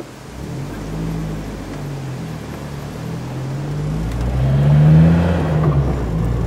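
A car cruises along a highway in New Zealand with a steady engine drone and broad road rumble. The engine note rises slightly as it accelerates midway, and no one speaks.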